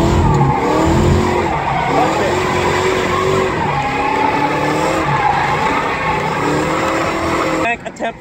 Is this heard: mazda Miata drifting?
yes